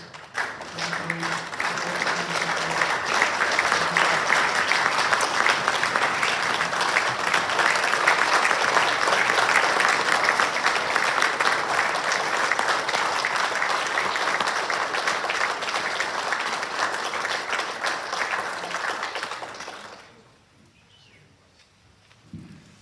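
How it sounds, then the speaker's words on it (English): A large audience applauds steadily at the Skeet Hall of Fame 2023 ceremony, a dense sustained clatter of clapping lasting about twenty seconds before fading out abruptly into near silence. "please everyone, warm applause for 2023."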